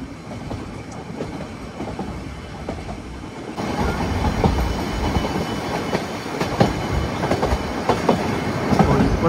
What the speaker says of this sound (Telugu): ఆ యొక్క బ్రిడ్జ్ మీద మన ట్రైన్ అయితే ప్రయాణిస్తుంది